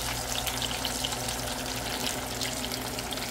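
Steady, dense sizzling of small catfish pieces frying in hot oil, loud and close, a continuous crackling hiss with no pauses.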